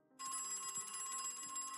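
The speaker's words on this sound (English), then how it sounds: "Oh, phone call." Telephone ringing in the horror game Nowhere Manor, a bright electronic ring that starts abruptly and sustains steadily, alone with faint low thumps beneath.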